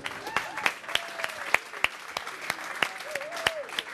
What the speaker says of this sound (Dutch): daarvoor wil ik een heel hard applaus